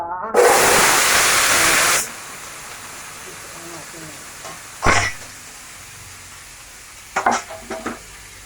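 Chicken pieces dropped into hot oil for pininyahang manok, a loud burst of sizzling hiss lasting about two seconds before settling, followed by a few brief clatters and stirring sounds.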